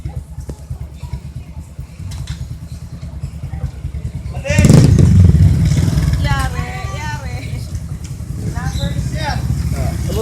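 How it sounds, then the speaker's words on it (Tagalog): Motorcycle ride with a steady low engine drone throughout, growing louder and rougher midway, with people talking over it. "Sakay na naman kami sa motor."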